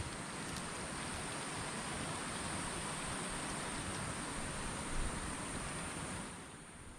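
Steady rain pours down over a rice paddy in a dense, even hiss with a low rumble underneath, continuous and moderately distant, with no voices.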